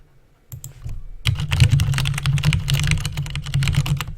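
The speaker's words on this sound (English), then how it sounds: "I'll spend some time typing to him." Rapid typing on a computer keyboard during an online blitz chess game, dense clattering keystrokes starting after a few isolated taps and continuing steadily, close and fairly loud.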